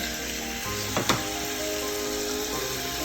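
Turkey tenderloin drops into hot oil in a pan and sets off a steady, loud sizzle. A short splash and crackle come as it goes in, then the frying hiss holds evenly with no talk.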